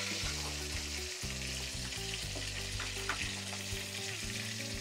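Onions frying on high flame in a pan for pasta. Loud, continuous sizzle with steady crackle over a low, stepped musical background, and no talking.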